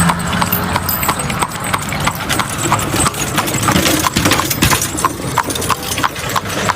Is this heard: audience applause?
no